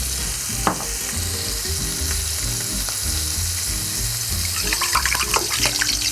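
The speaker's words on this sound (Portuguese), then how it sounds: "Como está congelada, a batata tem bastante água e vai espirrar um pouco" Frozen new potatoes, boiled in their skins, fry in a hot pan with steady sizzling and sharp spattering pops that grow busier toward the end, with no voices.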